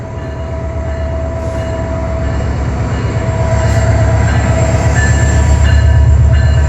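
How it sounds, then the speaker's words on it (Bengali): The Lalmoni Express passenger train pulls into Joydebpur station in Bangladesh with a loud, steady, rumbling roar and a faint rhythmic clatter of wheels, growing slightly louder as it draws close. "দেখতে পাচ্ছেন লালমনি এক্সপ্রেস কিছুক্ষণ প্রবেশ করতেছে জয়দেবপুর"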